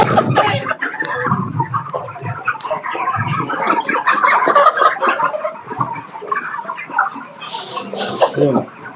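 Chickens on a village poultry farm, a dense chorus of overlapping clucks and squawks with an occasional crow, loud and close throughout.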